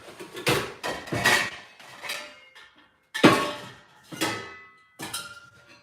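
Metal cooking pans handled for spaghetti noodles and meat sauce: several separate clanks and scrapes, close and fairly loud, in bursts with short pauses between.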